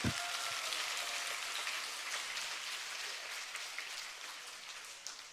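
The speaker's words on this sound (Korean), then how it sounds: "열연이라 생각하시면 박수." A church congregation applauding during a Sunday service, a dense, even wash of clapping that holds steady and slowly thins toward the end, with no voices over it.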